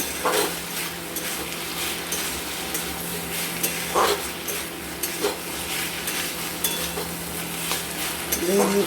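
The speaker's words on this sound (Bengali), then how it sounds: "তো আমরা এটাকে 2-3 মিনিট নাড়াচাড়া করে নেব।" Spinach with bori, dried lentil dumplings, being stirred in a pan makes a steady sizzle broken by scraping and clinking utensil strokes at irregular intervals, heard up close.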